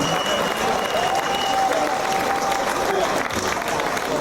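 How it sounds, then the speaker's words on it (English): A crowd at an outdoor campaign rally applauds continuously, a dense wash of many hands clapping at steady volume, with faint cheers mixed in. "let's have a big round of applause for everyone behind For the Children campaign"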